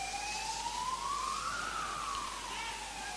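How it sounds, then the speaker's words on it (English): An ambulance siren wails steadily with a single rising and falling sweep as it passes along a road up above, moderately distant over a broad background hiss. "The ambulance going past up the top."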